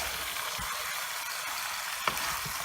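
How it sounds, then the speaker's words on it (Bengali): Goat curry is stirred over high heat, a steady loud frying hiss filling the pan with faint scraping and one brief knock near the end. "এখন হাই হিটে আমি এটা নাড়তেই থাকবো যতক্ষণ তেল উপরে না আসে।"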